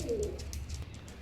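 Teddy pigeons of Oman bloodline give a brief, soft, low cooing call, close by and quiet, with faint chirps in the background.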